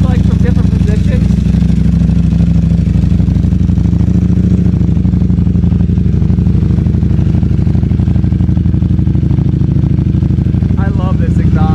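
A Ducati Panigale V4 SP fitted with a race filter and Termignoni exhaust idles loud and close in a steady, lumpy rumble, with brief voices at the start and end.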